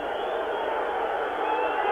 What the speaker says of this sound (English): It's a very vocal and very disappointed crowd at the moment.